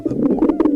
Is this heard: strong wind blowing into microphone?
no